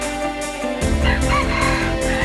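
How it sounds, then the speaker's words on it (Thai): A fighting rooster crows loudly and close by, a long strained call with a harsh, ragged tone after a brief low rumble. "ไก่ชนนะครับ"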